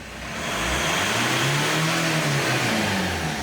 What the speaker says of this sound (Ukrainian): Газується, турбіна все працює